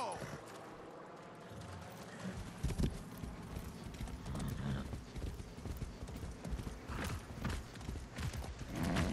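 Hooves of a horse clip-clop in a steady, uneven gallop rhythm in the video game Far Cry 6, fairly close and moderately loud, with brief scattered voice sounds mixed in.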